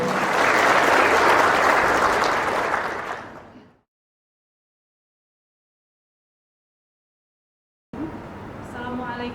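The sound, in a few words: applause at a pharmacist oath ceremony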